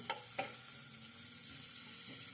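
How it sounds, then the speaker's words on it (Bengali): Chopped onion is stirred in a frying pan, a faint steady sizzle with two quick scraping strokes of the spatula near the start. "এই পেঁয়াজ কুচি দিয়ে দিচ্ছি। একটু নাড়াচাড়া দিচ্ছি"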